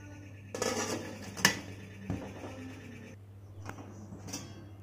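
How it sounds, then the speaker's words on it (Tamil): A metal lid is set onto an idli steamer pot with a sharp clatter, followed by softer scrapes and a couple of light taps, close by in a quiet kitchen. "மறுபடியும் மூடி வச்சிடலாம்."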